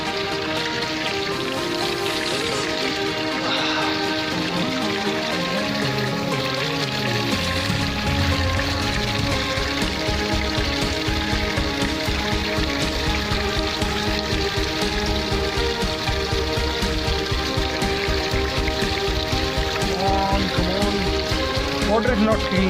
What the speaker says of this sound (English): feeling a little good, but it's raining. It started raining.